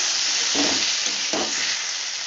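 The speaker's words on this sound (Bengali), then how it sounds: "আবারও ভালো করে কষাবো" Tomato masala for a katla fish curry sizzles steadily in a hot pan, with two soft scraping stirs of a spatula breaking through the constant frying hiss; no one speaks.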